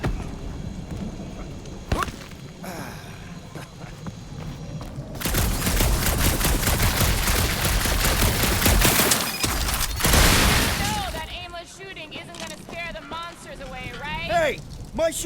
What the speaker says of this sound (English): My shooting's not aimless.